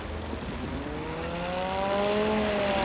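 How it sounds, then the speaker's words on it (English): A STOL race plane with a turbocharged 300-horsepower Yamaha Apex engine drones at a national championship air race, its pitch climbing as the engine revs up; loud and close, with no talking. "Listen to this Yamaha Apex 300 horsepower turbocharged engine on race 44."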